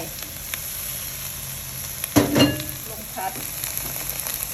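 Vegetables stir-fry in a pan with a little oil and added soup stock, giving a steady sizzle, one loud hissing burst partway through and a few stirring clatters.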